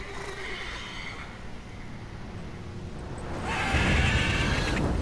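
A horse in The Witcher 3 video game whinnies twice, a shorter call early and a louder, longer neigh near the end, over steady game ambience.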